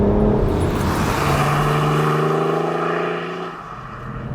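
A tuned BMW E91 335d diesel wagon with a Stage 2+ map pulls hard under acceleration, its engine drone rising steadily in pitch from inside the cabin before the revs ease off.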